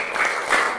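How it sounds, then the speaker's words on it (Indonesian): Audience applause in a classroom-style session, a short burst of steady clapping from a group, fairly loud and continuous, with a brief swell partway through. "Kasih dulu tepuk salut."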